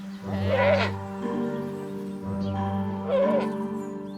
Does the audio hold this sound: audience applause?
no